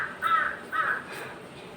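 Crows caw loudly nearby, two harsh calls in quick succession followed by a fainter third, set against a quiet background.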